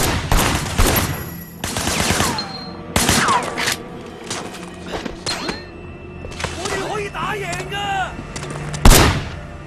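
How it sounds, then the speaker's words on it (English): Rapid gunfire from a car's passenger window in the video game Sleeping Dogs, loud sharp bursts of shots at irregular intervals mixed with clattering mechanical effects. "There was a shooter, firing shots from the passenger window."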